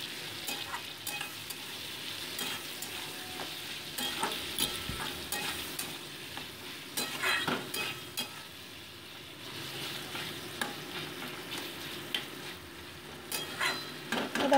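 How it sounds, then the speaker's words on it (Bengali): Potatoes fry in a pan with green chilli paste, salt and turmeric, a soft continuous sizzle broken by repeated clinks and scrapes of a spatula stirring against the pan. "কাঁচা লঙ্কা বাটা আর নুন হলুদ দিয়ে দিচ্ছি পরিমাণ মতো, দিয়ে মোটামুটি এটাকে 2 মিনিট আলুর সাথে ভেজে নিচ্ছি"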